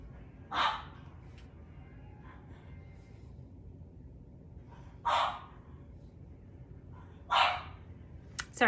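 A dog barks three times in short, separate bursts spaced a few seconds apart, moderately near, against a quiet indoor background.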